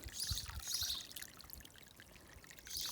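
Warm water, around 49 degrees, pours steadily out of a pipe for garden watering, a continuous splashing stream with bright hissing bursts, fairly close and alone.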